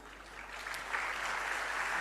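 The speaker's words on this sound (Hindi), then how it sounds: "अभी ताली मत बजाओ, ताली अब बजाना जब मैं बोलूँगा।" An audience claps at a religious discourse: broad, faint applause from a distance that swells and then holds steady.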